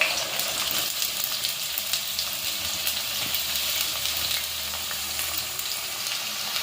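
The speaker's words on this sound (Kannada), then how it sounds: "ಸ್ವಲ್ಪ ಸಾಸಿವೆ ಹಾಕ್ಬಿಟ್ಟು ಈರುಳ್ಳಿ ಹಾಕಿ ಫ್ರೈ ಮಾಡ್ಕೊಳ್ಳೋಣ" Onions frying in oil with mustard seeds and cumin give a steady, dense sizzle that holds close and even throughout, with no voices.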